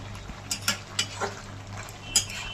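A spoon stirs poppy seed paste with drumstick pieces and potatoes in a pan, giving several sharp scrapes and clinks against the metal over a low, steady background hum.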